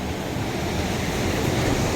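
Rough sea with strong currents rolls onto a South Goa beach, a continuous roaring wash of surf mixed with gusty wind, loud and steady throughout with no voices.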